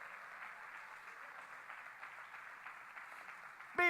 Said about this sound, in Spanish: Dale ese aplauso fuerte al Rey.